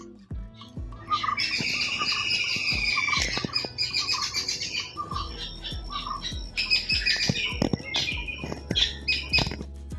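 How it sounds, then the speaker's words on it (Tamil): Birds squawk and chirp loudly in a busy morning chorus, with harsh calls and bright twittering over scattered thumps and pattering nearby. "காலையிலே இந்த பறவைகள் எவ்வளோ சத்தம் போட்டுட்ருக்கு பார்த்தீங்களா?"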